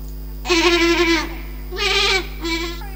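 A voice imitates goats bleating: three loud, wavering bleats, one long, then two shorter ones after a pause.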